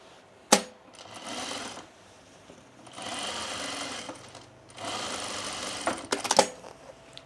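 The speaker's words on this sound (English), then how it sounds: "Should I top stitch the shoulder seams?" A sewing machine top stitches the shoulder seams of a sunblock top, running in three separate bursts of steady stitching with pauses between and sharp clicks near the start and end.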